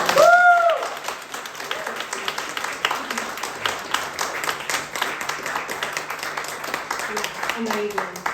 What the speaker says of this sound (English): can I have a round of applause for the amazing Claire?